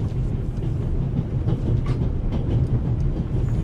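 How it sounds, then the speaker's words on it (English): Steady rumble of a train interior in The Raven Remastered, a low continuous rolling drone with faint rattles, heard alone at moderate level with no speech. "The noise on this train is driving me crazy."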